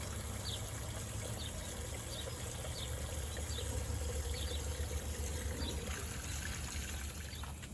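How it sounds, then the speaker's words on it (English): Water from a hose without its nozzle filling a garden fountain during cleaning, a steady trickling, splashing flow that runs unbroken at moderate level, close by and with no voices. "I'm just going to fill up the fountain without the nozzle"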